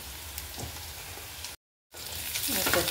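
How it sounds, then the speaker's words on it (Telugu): Sliced onion sizzles steadily in a pan with a pinch of turmeric, frying before bottle gourd goes in for a curry. The close, crackling hiss runs throughout, broken by a short dropout. "వేగిపోతుందండి ఉల్లిపాయ."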